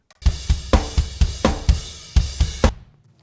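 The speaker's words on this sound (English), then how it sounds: "we get a flam on the kick and snare" Drum kit hits with kick and snare landing nearly together as a flam, the kick slightly behind the snare; about ten sharp, loud, evenly spaced strikes in a steady rhythm with no talking.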